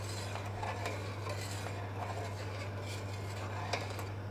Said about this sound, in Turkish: Böyle iyice karıştırıyoruz.